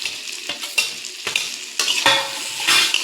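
Fried pointed gourd, potato and prawns go into hot masala and are stirred, giving loud sizzling frying with scraping spatula strokes against the pan at irregular intervals, no voices.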